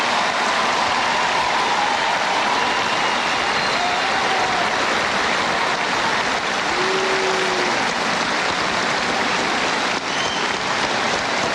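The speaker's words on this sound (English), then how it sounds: "I ask you to join me in applause for his lifetime of service to the United States." Dense, roaring crowd applause at an election night speech in 1996, a constant broadband wash of clapping and cheering that stays loud and unbroken throughout, with faint tonal whistles or voices poking through.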